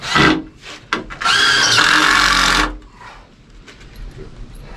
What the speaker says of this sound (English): These are Tapcons, which are just concrete anchors, and I think I'm going to put 3 of them in each one of these treated boards.